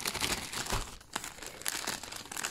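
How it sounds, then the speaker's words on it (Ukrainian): A plastic packet holding a pregnancy gift is torn open and handled near the microphone, with continuous loud crinkling and crackling throughout. "відкриваю один пакетик"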